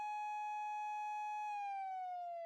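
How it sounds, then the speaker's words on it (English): Police siren in the video game Variable Barricade, a clean electronic wail holding one steady pitch and then sliding lower, fairly faint and alone with no talk. "With sirens blaring, the police finally arrived on the scene."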